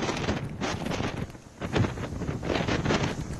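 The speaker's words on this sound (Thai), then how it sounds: "คลื่นลมแรงซัดกระทบพื้นที่ชายฝั่งบริเวณตะวันตกของอินเดียนะคะ" Strong cyclone winds lash India's west coast as Cyclone Biparjoy nears landfall, gusts buffeting the microphone in loud roaring surges, with surf and waves churning beneath and no voices.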